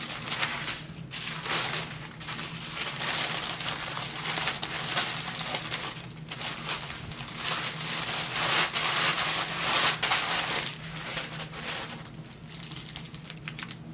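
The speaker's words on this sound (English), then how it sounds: "So let's unwrap them." Crinkly plastic wrapping is pulled away from new makeup brushes in a steady, close rustle that continues for over ten seconds with no talking.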